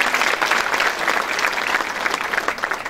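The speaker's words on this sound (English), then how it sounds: "Again, a big round of applause to Dr." A student audience applauds a teacher in a hall, a dense, even roar of many hands clapping throughout, fairly loud and close with no speech over it.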